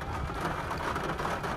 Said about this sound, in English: I don't know if you can hear me over the rain because the rain's so loud on the roof